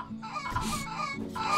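Chickens cluck in a video game, a quick run of close, throaty clucks over a busy game background.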